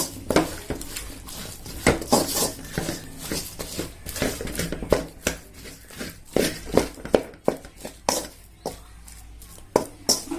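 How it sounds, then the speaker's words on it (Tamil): Cassava podimas with grated coconut stirred in a pan, a busy run of clinking, scraping spoon-on-metal knocks at an irregular rhythm, close and moderately loud, no talk. "தேங்காய் நெல் தூவி விட்டுக்கலாம். கொஞ்சம் கிளறி விட்டுக்கலாம்."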